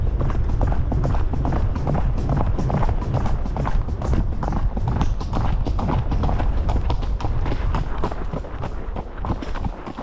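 Steady, rapid hoofbeats of an Icelandic horse cantering under a rider outdoors, a close, continuous drumming rhythm that carries through the whole stretch with only a slight easing near the end.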